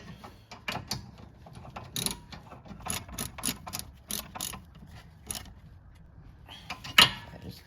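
A spanner tightens the bolts on a car brake rotor, giving a run of sharp metallic ratcheting clicks and clanks, irregular and close, with a louder knock near the end.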